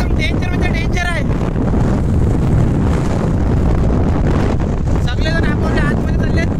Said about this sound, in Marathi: वाऱ्याचा वेग खूप जोरात आहे.